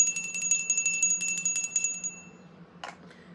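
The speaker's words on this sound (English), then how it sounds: "I'm going to go ahead and ring my bell" A small hand bell is rung rapidly for about two seconds, with bright, shimmering repeated strikes close by, then it stops, followed by quiet and a brief soft rustle.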